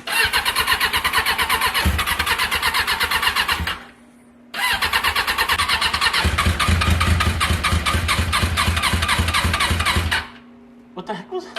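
A clapped-out superbike with a suspect starter cranks and fires, its engine revving loudly and steadily, cutting out briefly, then restarting and running hard before shutting off, with a few faint knocks afterward.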